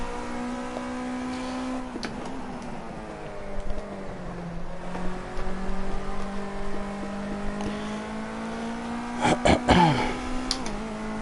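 Ginetta Jr race car engine in a racing video game at Sonoma, a steady droning tone that dips and rises with throttle changes, with a few sharp crackling bursts near the end.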